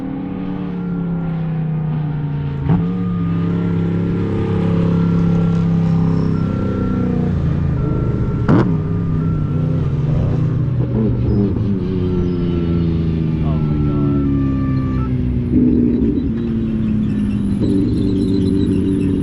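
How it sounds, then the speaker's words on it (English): Cars descending the mountain road on Pikes Peak, a steady engine drone with shifting pitch as vehicles pass close by, continuous and fairly loud throughout. "Ooh, more cars are coming down."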